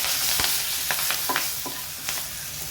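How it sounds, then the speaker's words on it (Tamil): Curry leaves sizzling in hot coconut oil for a buttermilk curry make a loud, steady hiss with a handful of quick crackles and pops, close and without talk. "கருவேப்பிலை போட்டுக்கிறேன்."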